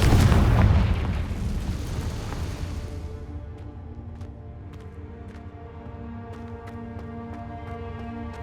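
Fire spell explosion in the Hogwarts Legacy video game: a loud booming blast opens the clip and decays over about three seconds into a lingering rumble with faint, scattered crackles and pops.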